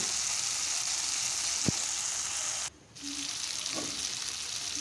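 Chicken liver frying in oil with chili and turmeric powder, a steady close sizzle with a single sharp clink of a utensil and a short gap in the sound.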